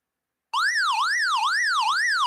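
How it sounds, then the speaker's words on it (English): A loud electronic siren from a radio's alert button starts abruptly and wails up and down in a steady, rapid cycle, close and continuous. "this button is just a siren"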